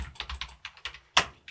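Keys clatter on a computer keyboard in a run of quick, uneven clicks while someone types an Oracle 11g SQL query, with one sharper, louder stroke near the end; close and clear, with no voices.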